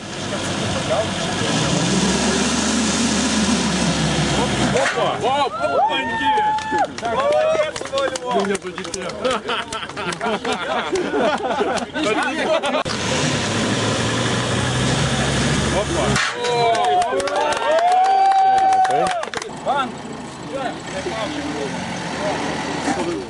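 An all-wheel-drive car engine drones steadily at close range on test rollers for the whole stretch, while people talk loudly over it through much of the time.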